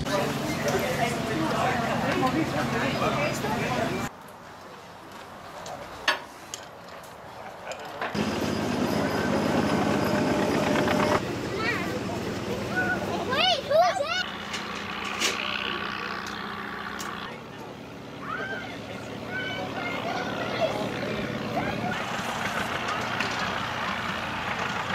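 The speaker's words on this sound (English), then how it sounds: "We're in Kutztown with the Old Time Plowboys Tractor Club for day 2 of their spring plowing" Vintage tractors run at a spring plowing show in Kutztown, engines idling and rumbling nearby with shifting loudness, one starting up, while people talk over the machinery.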